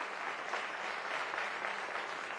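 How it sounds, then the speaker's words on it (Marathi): An audience at an awards ceremony claps steadily, a moderate continuous patter of many hands with slight swells and no speech over it. "तुम्ही टाळ्या वाजवताय"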